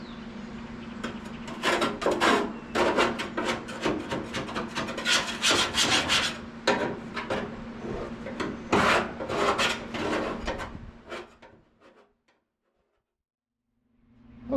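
Scraping out the inside of a pellet grill during a deep clean, with repeated rough scraping and rasping strokes of metal on metal, close and steady, before fading to near silence at the end.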